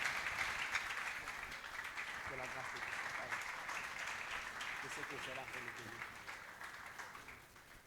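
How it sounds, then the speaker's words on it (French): A church congregation applauds a pastor, steady crowd clapping that holds throughout with voices talking and cheering over it. "Est-ce qu'on peut acclamer pour notre frère?"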